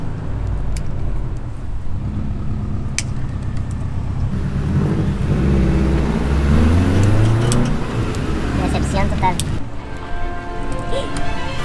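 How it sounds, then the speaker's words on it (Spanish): Car driving past on a residential street, its engine rising to a loud close pass midway and fading after, with people talking over the traffic noise. "ahí viene un carro, ahorita que pasa el carro"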